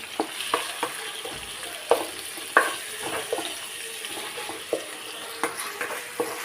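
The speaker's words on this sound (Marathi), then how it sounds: "टोमॅटो थोडं चांगलं परतून घ्यायला लागेल" Tomatoes sautéing in a hot pan for a dry crab curry give off a steady low sizzle, broken by sharp, irregular scrapes and taps as a spoon stirs them, with no one talking.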